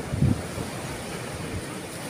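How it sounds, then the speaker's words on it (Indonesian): Waves and wind at Pencaleien beach, an old fishing harbour on the south coast of Java: a steady broadband roar of surf and gusting wind, loud and continuous, with one heavier surge near the start. "Pantai Pencaleien merupakan pelabuhan tertua di pesisir selatan Pulau Jawa."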